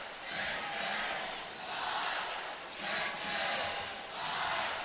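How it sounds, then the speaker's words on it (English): An arena crowd at a women's college volleyball match between Texas and Stanford in Austin roars during a replay review, a loud continuous cheer swelling and easing in waves. "Crowd will not be silenced during a replay, that's for sure."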